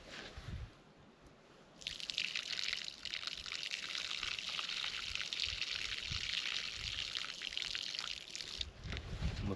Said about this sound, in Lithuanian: nupilam vandenį, pilsim naują